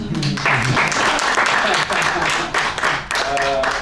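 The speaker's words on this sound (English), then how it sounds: "Shake hands, it's okay, I'll applaud it." Applause in a Hollywood acting studio: a small group claps briskly and fairly loudly for several seconds, with a voice speaking over and between the claps.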